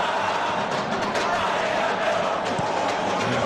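Football stadium crowd at the Bahia vs Vitoria Brasileirão match: a dense, steady roar of thousands of fans, loud and continuous throughout, with no single voice standing out.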